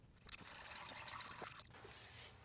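Motor oil drains from a Toyota Tacoma during an oil change, a faint, continuous trickle and splatter of liquid falling into a pan, heard close and steady.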